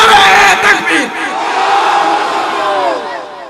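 A large crowd at a religious gathering roars a takbir in unison, a loud collective shout that swells at once and then trails off slowly over a few seconds.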